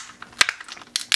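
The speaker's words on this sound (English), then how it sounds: "So just cut along the inside like this." Kitchen scissors snip and crunch along the inside of a lobster shell, a quick run of crisp close clicks and cracks over about a second.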